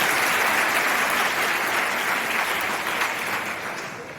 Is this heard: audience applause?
yes